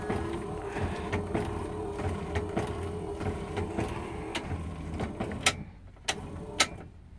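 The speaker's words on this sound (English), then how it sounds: "Wiper motor and the washer work fine" Windscreen washer pump and wiper motor running on a Series IIA Land Rover, a steady mechanical whir and hum with a few sharp clicks near the end as it switches off.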